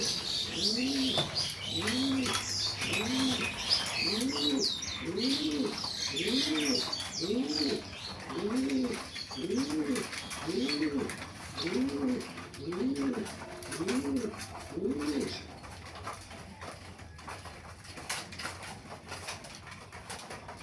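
Racing pigeons coo inside their loft. A dozen or so deep, rounded coos come in a steady, evenly spaced rhythm from close by, then stop, leaving quiet background.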